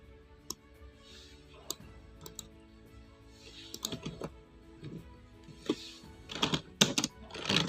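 Typing on a computer keyboard to enter commands, a sparse run of light clicks and taps that builds into quicker bursts of keystrokes toward the end, close and fairly quiet, with no talk.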